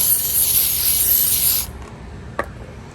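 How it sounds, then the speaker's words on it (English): A steady hissing spray of clear protectant onto a microfiber towel lasts about a second and a half, then stops, followed by a faint click in near silence. "I'm just going to spray it on a microfiber towel"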